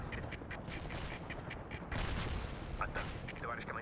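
Continuous distant artillery and gunfire in the World in Conflict strategy game during a hard POW camp defense, a dense rumble dotted with sharp cracks and bursts, moderately faint throughout.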